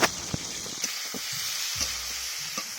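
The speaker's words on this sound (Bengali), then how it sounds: "এরপর সেদ্ধ করা এঁচোড়গুলো যে রেখেছিলাম সেগুলোকে তেলে ভেজে নেব।" Boiled jackfruit pieces frying in hot oil in a wok, a steady, dense sizzle and hiss with small pops and stirring clatter throughout.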